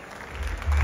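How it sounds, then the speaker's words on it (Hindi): Applause from an audience at an award and recognition event, a short loud burst of clapping that swells toward the end. "जोरदार तालियां दीजिए हरीश सर के लिए"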